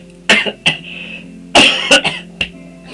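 Several sharp coughs in separate bursts, close and loud, with short quiet gaps between them.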